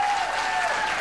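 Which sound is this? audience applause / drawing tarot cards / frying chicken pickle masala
audience applause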